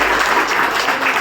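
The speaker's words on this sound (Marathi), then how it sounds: "टाळ्या झाल्या पाहिजे सगळ्यांसाठी." Dense applause from an audience at an award ceremony honouring achievers, steady close clapping with no gaps throughout.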